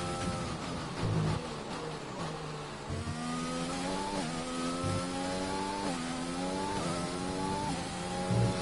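F1 race cars in the F1 2020 video game screaming around the British circuit during the third qualifying session: a steady, loud engine drone with repeated rising revs and sharp gear-shift drops, no talking.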